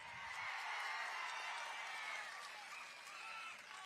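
Crowd at a TDP political rally in Anantapur clapping loudly, a dense sustained wash of applause that swells and holds for several seconds, heard at a distance, with a voice over it briefly at the start.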